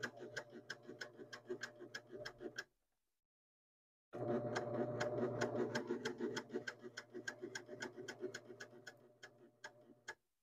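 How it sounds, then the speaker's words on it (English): Sewing machine stitching a fabric bunny, a quiet, fast regular ticking of the needle that runs steadily, stops for about a second and a half as the presser foot is adjusted, then resumes at the same even pace. "Start stitching down the bunny, and as you go along, you might need to lift your presser foot slightly and continue to go around the curves."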